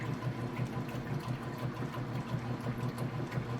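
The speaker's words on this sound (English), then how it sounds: "You can hear it agitating." Whirlpool top-load washing machine agitating after filling with water, a steady low rhythmic churning and sloshing with regular pulses, fairly quiet and close, with no talking.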